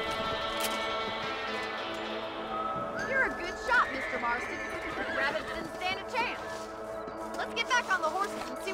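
Horses in the video game Red Dead Redemption whinny loudly several times, with hooves clip-clopping underneath. Game dialogue runs over and between the calls.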